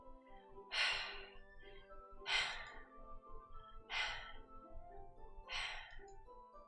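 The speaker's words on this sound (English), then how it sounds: "It sounds like breathing. A sharp inhale, like someone sucking the air through their teeth." Four sharp breaths, each drawn in through the teeth, come from around a corner in Doki Doki Literature Club. They repeat at roughly regular intervals, close and fairly loud, over a quiet low hum.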